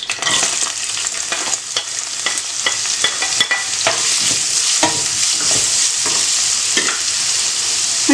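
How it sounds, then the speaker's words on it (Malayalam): Chopped onions sizzle loudly in hot sunflower oil, a dense crackling hiss with frequent sharp pops and spatters throughout, close up and continuous. "അതിലേക്ക് നമുക്ക് ചെറുതായിട്ട് അരിഞ്ഞു വെച്ചിരിക്കുന്ന സവാളയാണ്, അത് ഇട്ട് കൊടുക്കാം."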